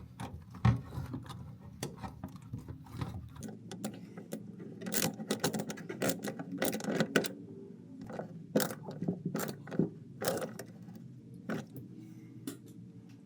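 A Phillips head screwdriver tightening the clamp on the tub-to-pump drain hose of an LG Kenmore washer: a run of irregular scraping, clicking and ratcheting taps, close and moderately loud, no talking.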